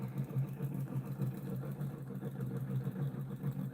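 Homemade pulse motor running steadily at just under 500 RPM on both AC and DC power, giving a continuous low, even hum with a faint rhythmic pulsing throughout, no voices.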